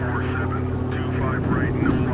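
In the video game Arctic Awakening, a water plane's engine holds a constant propeller drone with a steady low pitch, running the whole time beneath a voice talking over it.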